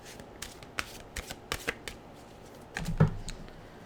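Tarot cards being shuffled by hand, a few light riffling flicks followed by a fuller, louder shuffle near the end, close and alone without talk.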